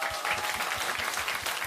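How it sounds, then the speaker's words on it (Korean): An audience at a live public radio broadcast claps steadily and fairly loudly, a dense continuous patter of many hands that holds evenly throughout. "박수 한번 보내주세요."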